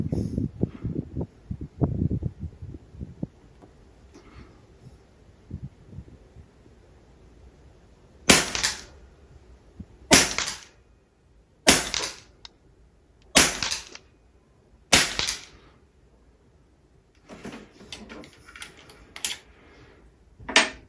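Rifle shots from a Steyr Hunting 5 Auto fired at targets 50 metres away: sharp, loud cracks spaced a second or two apart, about ten in all, after some quieter handling knocks at the start, with no talking.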